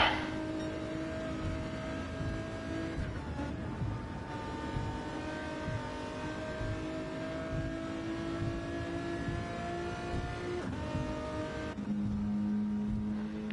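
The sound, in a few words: race car driving up ramp in racing video game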